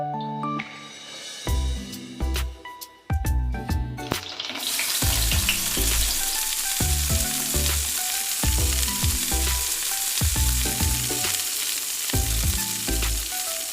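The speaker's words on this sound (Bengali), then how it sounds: "কড়াই আবার তেল দিয়ে বেগুন আমি ভেজে তুলে রাখছি" Loud, steady sizzling of eggplant frying in hot oil in a wok, with clinks and scraping of stirring in the pan throughout.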